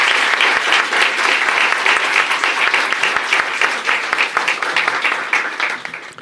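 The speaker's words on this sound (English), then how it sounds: "Let's give him a great round of applause for that." Strong, steady applause from a crowd during a mayoral visit to a South Bronx high school, a dense wash of clapping that holds throughout at close range.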